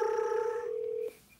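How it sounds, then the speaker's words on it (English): A telephone rings during a Las Vegas Stadium Authority board meeting, a steady electronic tone lasting about a second before cutting off, fairly faint against the room. "Punctuated by that ringing phone."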